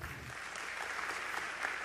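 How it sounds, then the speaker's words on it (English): Conference audience applause at a marketing pre-show event, a soft, steady wash of many hands clapping at a distance, continuous for about two seconds with no talk over it. "Big round of applause for Mr."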